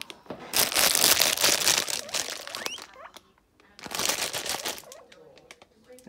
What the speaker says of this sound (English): Every time I crumple the bag